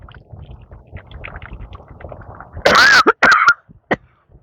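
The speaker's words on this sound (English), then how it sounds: "One more time with the coughing." A few loud, close coughs in a short burst after a quiet, murmuring stretch, followed by a softer cough.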